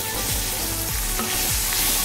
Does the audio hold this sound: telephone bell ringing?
no